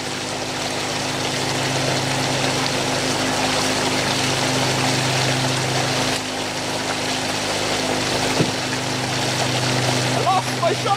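A water pump drones steadily and loudly while high banking for gold at Trout Creek, a continuous engine-like hum with the rush of flowing water running unbroken throughout.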